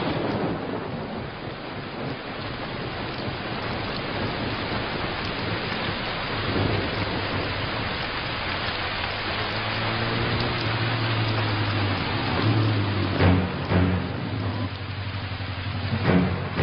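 Steady heavy rain hisses throughout while low rumbles of thunder roll in the background, growing stronger near the end with a few sharper cracks.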